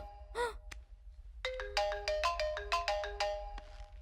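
A mobile phone ringtone plays a bright, repeating electronic melody of quick tonal notes, fairly close and clear, preceded by a brief vocal gasp-like sound.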